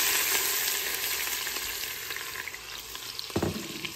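Diced onions frying in rendered bacon fat for a loaded baked potato soup, a steady close sizzle that runs throughout with a brief louder thump near the end.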